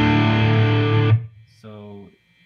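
An electric guitar plays through a Boss SD-1 overdrive pedal into a Laney Pro tube amp, giving a loud, sustained distorted chord that cuts off, then a shorter overdriven phrase before the sound drops out.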